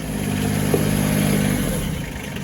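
A vehicle engine idles steadily, carrying a tank of maple sap up to a sugar house at Letchworth State Park; a close, continuous low hum with a brief clatter partway through, no talking.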